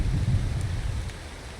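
Rain and thunder roll through the video game ARK on the Sanctuary map, a deep continuous rumble under steady rain hiss, fairly loud with no voices.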